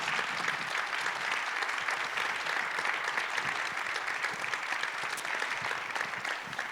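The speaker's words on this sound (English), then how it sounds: "let's give a big round of applause to the students and to these amazing lecturers" Sustained audience applause at an annual presidential lecture for students and lecturers, an even wash of many hands clapping from a large room, steady and continuous throughout with no voices over it.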